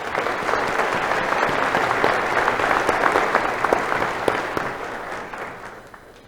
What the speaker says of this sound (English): Please give a round of applause for our students.